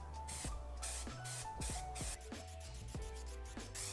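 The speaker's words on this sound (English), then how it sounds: "First, just want to spray the fabric and then press it down." Repeated hissing bursts of an aerosol adhesive spray can onto suede fabric for a car headliner, close and loud, in quick rhythmic pulses with short pauses between them.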